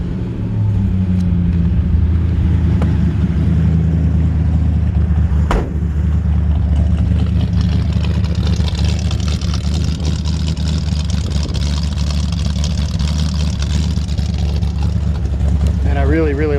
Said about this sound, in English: Just got a really great sounding engine.